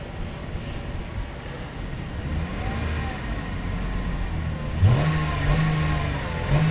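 A used car's engine idles and revs in a steady mid-pitched hum, with a faint whine from an accessory pulley riding over it; the engine note rises slightly toward the end.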